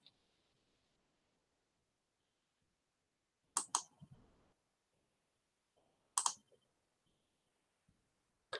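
Computer mouse clicking in two brief close bursts of sharp clicks, separated by several seconds of near silence.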